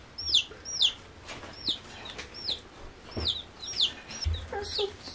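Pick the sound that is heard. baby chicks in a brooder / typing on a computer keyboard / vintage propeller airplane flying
baby chicks in a brooder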